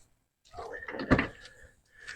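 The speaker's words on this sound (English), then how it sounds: "So open the door." A short mechanical click and clunk of a car door unlatching and swinging open, close and fairly quiet, with a faint voice nearby.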